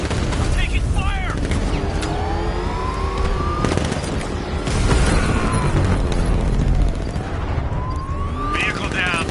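A video game firefight around vehicles, dense and loud throughout, with gunfire, booming explosions and engine roar layered together, and a voice shouting over the din.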